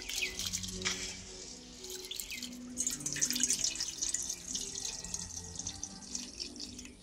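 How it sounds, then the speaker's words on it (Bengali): Soaked raw rice being washed in water at a kitchen sink, with water running and splashing steadily and close by, plus light sloshing and drips throughout and no speech. "চালটাকে ধুয়ে ভালো করে পরিষ্কার করে নিয়েছি।"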